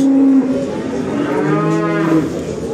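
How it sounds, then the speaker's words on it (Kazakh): Cattle at a livestock market in Tokmok, including dairy cows and Angus, let out loud, close mooing. Two or three drawn-out lowing calls overlap across a few seconds against a low crowd background. "Уйлар."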